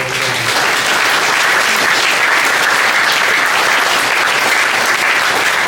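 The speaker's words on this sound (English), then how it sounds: "please join me in a round of applause for all of you" Steady, full applause from the audience at a mayoral town hall held by a chamber of commerce, a dense wash of many hands clapping continuously for several seconds with almost no voice over it.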